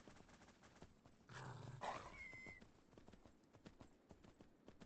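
A horse walks in the open-world survival game Myth of Empires, giving a steady run of soft hoof clip-clops with a brief louder rustling burst in the middle, fairly quiet and with no talking.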